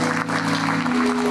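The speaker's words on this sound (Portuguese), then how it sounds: "Vamos dar para ele aquela caprichada, calorosa salva de palmas, bem bonito, com alegria." A church congregation at a Portuguese-language worship service applauds warmly, broad clapping wash over a sustained musical hum from instruments or a keyboard, fairly loud throughout.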